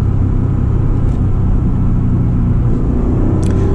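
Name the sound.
Acura NSX driving on backroads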